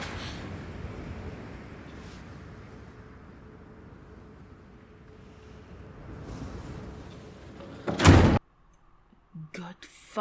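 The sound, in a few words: door opening as a character leaves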